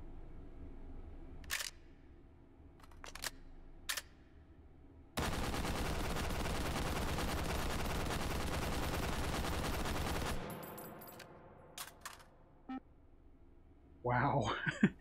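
An H&K firearm firing in the VR shooter Hot Dogs, Horseshoes & Hand Grenades, a loud sustained full-auto burst of about five seconds, with a few sharp single clicks and clacks before and after.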